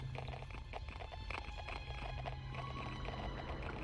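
Horse hooves clop rhythmically while riding in the Neverwinter Nights game, a steady repeated gait under a constant hum and faint background game sounds, no talking.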